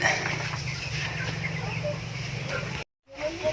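Rhode Island Red hens clucking softly in a farm pen, a steady low murmur with faint intermittent calls, broken by a brief moment of silence near the end.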